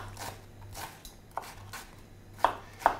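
Knife chopping onions on a cutting board in a home kitchen, a few sparse, sharp cuts spaced irregularly, the last two louder and crisper, with a faint low hum underneath.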